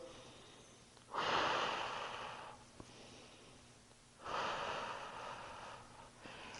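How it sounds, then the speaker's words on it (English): Two long, breathy exhales during an isometric curl-up flexion exercise, each a loud rushing breath lasting over a second, separated by a quieter pause with faint background hum. "I kind of time that with some exhales"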